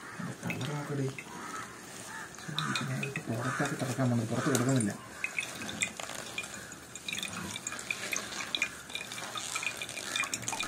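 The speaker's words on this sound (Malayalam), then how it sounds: "ആ ഇലസത്ത് എല്ലാം കൂടെ പിഴിഞ്ഞു വരുന്നതും എണ്ണ വീഴുന്ന സൗണ്ടും കണ്ടോ." Herbal hair oil, pressed out of crisp fried leaves, drips and trickles into a vessel with soft, irregular wet patters, partly under a person speaking at the start.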